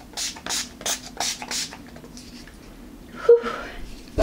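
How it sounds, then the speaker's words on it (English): Urban Decay All Nighter setting spray misted from a pump bottle, giving a quick series of about five short, close hissing bursts, then a pause and a final puff. "I'm gonna go in first with the Urban Decay All Nighter. I don't know why I shake it. I don't think you need to. And just mist away."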